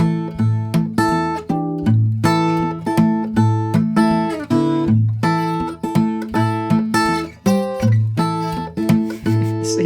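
Fingerstyle acoustic guitar plays a song with a plain, standard left hand, sustained ringing chords and melody notes in a steady bouncing rhythm, close and clear with no talking.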